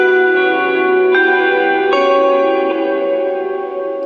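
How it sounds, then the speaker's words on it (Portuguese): Reverb return channel carrying guitars in a mix, heard alone: sustained, shimmering tones with new notes struck every second or so, each ringing out in a long, washy tail. "E aqui no reverb está soando desse jeito"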